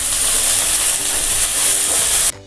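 Finely chopped onions sizzling as they sauté in a pan for a gram-flour chutney, a loud, steady frying hiss close up that cuts off abruptly at the end.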